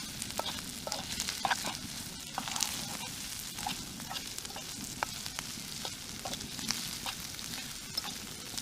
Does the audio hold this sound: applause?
no